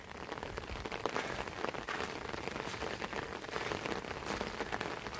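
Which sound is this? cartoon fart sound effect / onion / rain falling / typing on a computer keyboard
rain falling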